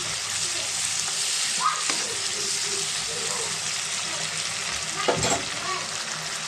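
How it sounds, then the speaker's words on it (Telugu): A spoonful of ginger-garlic paste frying in a pan, a loud steady hiss with a few stirring clinks, close up and continuous. "ఒక స్పూన్ అల్లం వెల్లుల్లి పేస్ట్ వేద్దామండి ఇది కూడా పచ్చివాసన పోయేదాకా మనం ఫ్రై చేద్దాం"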